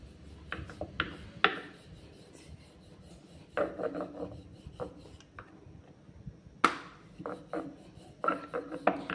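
Wheat-flour bhatura dough being rolled into an oval with a rolling pin, giving soft rasping, rubbing strokes in an irregular rhythm with a few sharper taps of the pin against the board, close and fairly quiet, with no talk.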